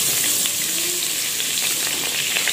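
Butter sizzles and crackles steadily in a hot pan, a bright continuous frying hiss with small pops, close and fairly loud.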